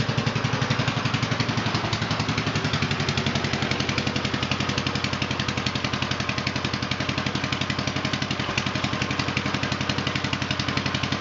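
A 1948 L engine runs steadily after a throttle shaft bushing change, a loud, close, rhythmic chugging idle that holds a constant beat throughout with no talking.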